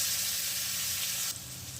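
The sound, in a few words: nigella seeds and ginger garlic paste sizzling in oil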